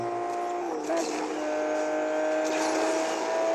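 An Aston Martin DB9 Coupé in a multiplayer racing video game holds a steady, loud engine drone with a sustained high tone and slight shifts in pitch, while someone talks over it.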